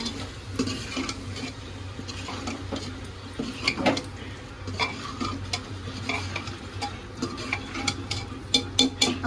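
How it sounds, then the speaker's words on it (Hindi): Potatoes stirred into cooked spices in a pan, with steady scraping and clinking of a spoon against the metal over a soft sizzle, close and continuous. "फिर मम्मी अब आलू डाल रहे हैं।"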